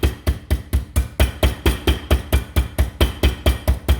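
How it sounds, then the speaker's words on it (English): A meat mallet pounds a pork chop laid on a towel, giving a steady run of about fourteen dull, muffled thuds in quick, even rhythm. The blows are close and solid, with no voices. "So just pound it out just a little bit."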